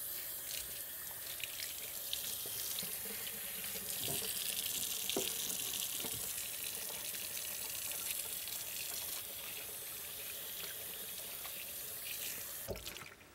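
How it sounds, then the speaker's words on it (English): A kitchen sink tap runs steadily while hands are washed under it, a continuous close hiss of water with small splashes and drips, no talking. "Let's wash our hands."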